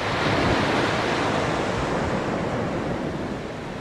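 Sea waves breaking on a Sardinian beach in the morning make a loud, continuous wash of surf with some wind noise, steady throughout and easing slightly near the end, with no voices.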